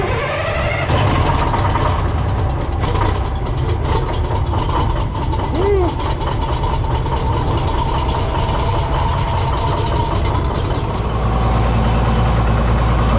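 The Push Cat engine runs loud and continuous with the throttle opened, ether fed into the breather at startup, a dense rumbling roar that fills the whole stretch with a brief rising tone midway.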